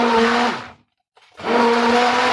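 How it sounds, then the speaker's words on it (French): A blender whirs loudly as it mixes gluten-free crêpe batter, a steady motor whine that stops briefly and then starts again, close and with no talk. "Voilà, on va mixer. On va bien les mélanger."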